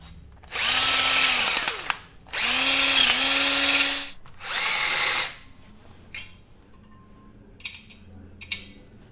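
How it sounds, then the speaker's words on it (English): Hand drill boring a 7/16 hole in a steel T-nut for a lathe tool post: three loud, sustained whining bursts with pauses between, then faint clicks and handling taps as it stops. "So I'm going to pop a 7/16 hole in that. I know I'm doing this with a hand drill."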